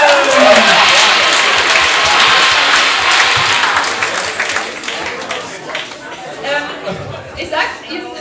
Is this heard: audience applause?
yes